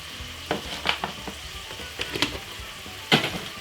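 Green beans stirred in a pan with butter, mixed herbs and pepper, a soft continuous sizzle with several sharp scraping clacks of the utensil against the pan, close and without speech.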